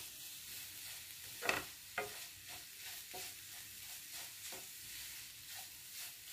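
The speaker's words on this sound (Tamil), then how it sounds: "பாருங்க 5 நிமிஷம் நல்லா பீட்ரூட்டை நம்ம நெய்யில வணக்கியாச்சு" Beetroot sautéing in ghee for halwa, a quiet steady sizzle broken by a few soft spoon-stirring scrapes and taps that recur every second or so, with no talking.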